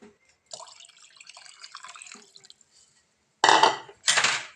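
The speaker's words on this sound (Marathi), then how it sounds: "मी याच्यामध्ये पाणी ॲड करते शिजण्यासाठी" Water is poured into a pressure cooker of soaked rice for veg pulao in two brief splashing pours near the end, after quieter clinking and dripping from the pot.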